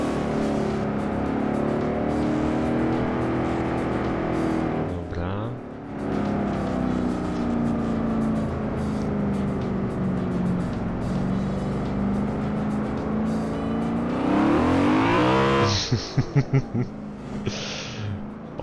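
A car engine accelerates in the racing video game Forza Horizon 4, a steady loud drone that dips briefly, then climbs in a sharp rising rev near the end, followed by a few clipped bursts.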